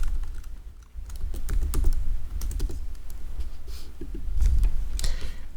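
Fast, close keystrokes on a computer keyboard while coding CSS and JavaScript for a front-end web tutorial, a dense irregular clatter of taps running continuously with a brief pause near the start.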